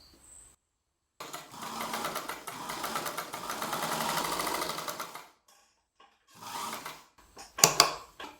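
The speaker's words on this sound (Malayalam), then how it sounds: "അതിൻ്റെ മേലെ നമുക്ക് ഈ കസവ് വെച്ച് ഒന്ന് സ്റ്റിച്ച് ചെയ്തെടുക്കാം." Sewing machine stitching a gold kasavu border onto cloth for a small child's dress, running in a long steady whirring burst, then stopping and restarting in shorter bursts, close and fairly loud with no talk.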